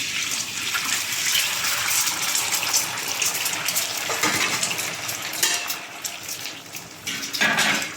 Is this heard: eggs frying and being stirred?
yes